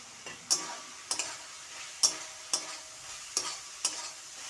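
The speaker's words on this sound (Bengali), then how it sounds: "একটু নাড়াচাড়া করে নিলাম।" A spoon stirs chana dal with fried soybeans in a pan, making six or seven soft, evenly spaced scraping strokes over a faint sizzle in a quiet kitchen.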